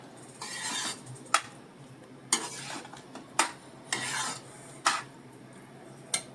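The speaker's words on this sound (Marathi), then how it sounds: "परत एकदा ढवळून घेऊया." A spoon stirs alu (taro leaf) vegetable curry in a pot, with several soft scraping sweeps broken by sharp clinks against the metal at irregular intervals, close and moderately loud.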